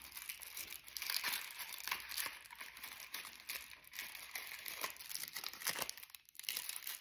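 Paper cupcake wrapper on a cake-shaped candle being crinkled, soft close rustling and crackling handled in irregular bursts, fairly quiet.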